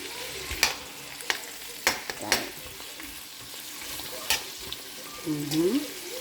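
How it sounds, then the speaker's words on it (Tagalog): Onion sautéing in a pan while cooking ginataang tulingan, a Batangas fish dish in coconut milk, with ginger: several sharp spatula scrapes and stirs over a low, steady sizzle, close and moderately loud, no talking. "Lagay na po natin ang sibuyas. Yan. Gisa lang natin siya ng saglit."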